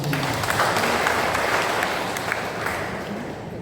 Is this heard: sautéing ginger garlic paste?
no